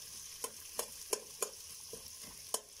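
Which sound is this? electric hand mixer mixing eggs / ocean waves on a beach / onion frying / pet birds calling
onion frying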